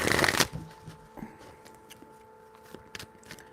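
Tarot cards shuffled by hand, a loud riffling burst at the start followed by a few softer taps and card slides, close and alone.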